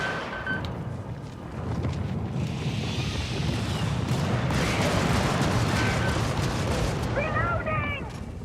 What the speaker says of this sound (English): Careful of that volcano.